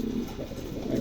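A pigeon coos close by, a low throaty rolling murmur that swells twice in about a second, quiet and alone without voices.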